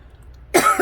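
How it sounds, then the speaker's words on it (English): A single short cough bursts out near the end after a quiet stretch, loud and close, from someone who has been sneezing and now has a developing cough. "now it's turning into a cough"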